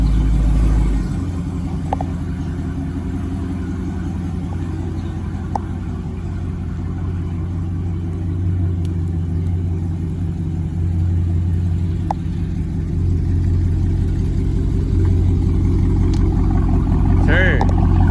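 A Dodge Scat Pack in track mode drives with a constant, deep, loud engine drone heard from inside the car, with people talking over it.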